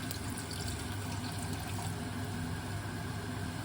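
Water poured into a pan of curry with chopped tomatoes and tomato puree, giving a steady, even rush of liquid noise that runs unbroken through the whole short stretch.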